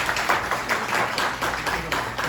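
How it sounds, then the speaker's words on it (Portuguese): Lecture audience applauding a doctor after a memory talk, a dense steady wash of many hands clapping without clear individual claps, moderately loud and sustained throughout. "palmas para o doutor"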